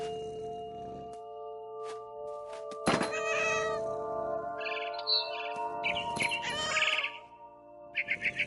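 A cat meows several times in the video game What Remains of Edith Finch, with bird chirps and tweets mixed in over a steady musical drone, ending in a short run of quick calls.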